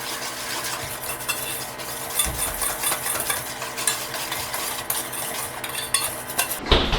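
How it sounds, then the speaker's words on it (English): Flour and salt whisked together in a bowl for a peanut butter cookie dough, a steady busy scraping and stirring rattle running throughout at close range, with a brief louder clatter near the end. "And then we're gonna whisk that together."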